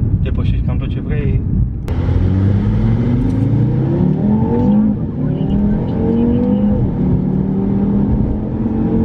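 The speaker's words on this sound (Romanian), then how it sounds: "Și când bagi piciorul, depășești cam tot ce vrei." Audi RS3 with 400 hp accelerating hard, a loud close engine note rising steadily in pitch through the gears after an abrupt onset, with a person talking over it at first.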